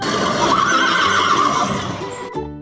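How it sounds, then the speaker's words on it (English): A horse gives a loud, sustained whinny that trails off, followed by a brief snort at the end, heard alone without talk. "horse"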